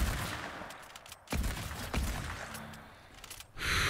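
Gunfire in Fortnite: a few sharp, sudden shots ring out over a busy rustle of game noise, the loudest crack landing midway with another burst at the end.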